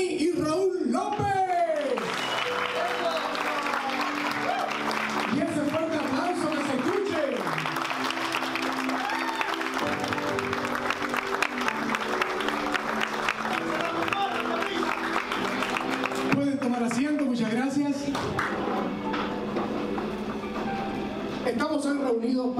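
Strong applause welcoming the proud parents at a baby shower in a banquet hall, continuous crowd clapping running throughout with voices and music sounding over it.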